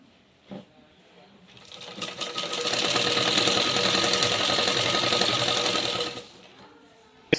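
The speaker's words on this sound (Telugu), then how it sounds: "ఈ క్రాస్ వైస్లో క్లాత్ని దీన్ని ఇలా మర్చి పెట్టి సన్నగా కుట్టుకోవాలి" Sewing machine stitching a narrow seam along a folded cloth strip for a blouse sleeve, a steady close run of about four seconds that builds up and stops, with quiet handling before and after.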